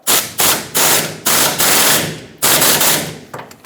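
A power tool hammers at a 13mm fuel tank strap mounting bolt on a 1999-2007 Ford F-350 7.3L Powerstroke, giving loud rapid rattling bursts of impact, about five in a row with short pauses between.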